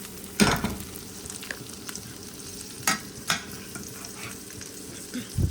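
Water spinach being stirred in a pot with a spoon, greens sticking to the base: a few sharp scraping clicks and soft rustles over a low background hiss, close and fairly quiet, no talk.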